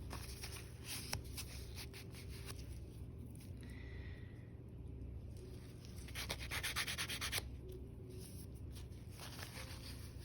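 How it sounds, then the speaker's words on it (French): Paper rubs and wipes across a fingernail to clear away excess nail gel, giving soft, continuous close-up scratchy friction that swells slightly in the middle, with no voices. "On prend un petit papier pour nettoyer le surplus."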